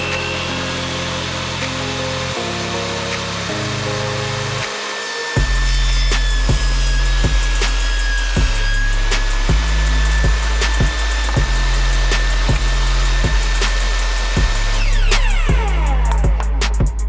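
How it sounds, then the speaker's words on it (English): A Makita 2703 table saw runs up to speed and rips through plywood, a loud steady motor whine with the low roar of the cut rising and falling as the board feeds through, then the blade spins down at the end. "So I'm going to do a test cut with some plywood."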